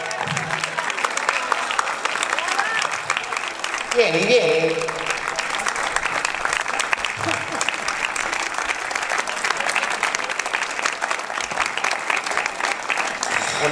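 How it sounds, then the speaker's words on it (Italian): Audience applause at a flute class recital, dense, steady clapping filling the room and carrying on throughout. A brief spoken call cuts in early. "vai a prendere un altro applauso"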